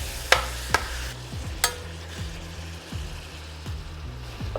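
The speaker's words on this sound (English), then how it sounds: "I'm gonna add my tomatoes to it because they're not cooked. And I want them to get all the cooking we can get. Mix them in." Tomatoes stirred into a pot of Southern chili, a few sharp clacks of a spoon against the pot followed by repeated scraping stirs over a low background hum, near and without speech.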